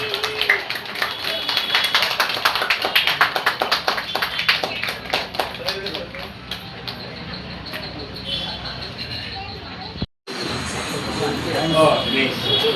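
An audience breaks into loud, dense applause honoring a guest at a dance academy's opening ceremony, sustained for several seconds before thinning out. A brief dropout follows, then a murmuring crowd and faint voices continue.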